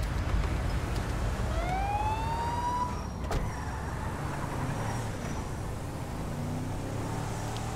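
A damaged police car drives away in GTA 5, its siren rising and sweeping in a steady wail over a continuous engine and road rumble that slowly fades, with no talk.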